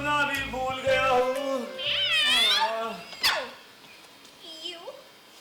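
Drawn-out, wavering cat meows in a student stage play, loud and close, several calls rising and falling in pitch, the last ones quieter over a faint room hum.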